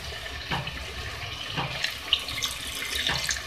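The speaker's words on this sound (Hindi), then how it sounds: "अब इसके अंदर मैं थोड़ा सा इसमें पानी ऐड करूँगी" About half a cup of water is poured into a cooking pot of spiced spinach and green chillies, a short, close splashing trickle with faint kitchen clatter.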